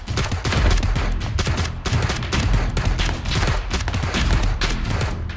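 Sustained bursts of rapid gunfire in the battle royale game PUBG, loud and continuous across several seconds with dense overlapping shots, heard alone without talk.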